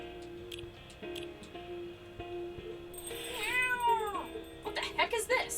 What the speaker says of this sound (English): If I'm not mistaken, this is a local cat.